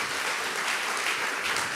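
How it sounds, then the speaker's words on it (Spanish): Audience applause in a church gathering, a steady wash of clapping that fills the short moment at even loudness, with no voices on top. "un aplauso al Señor por eso"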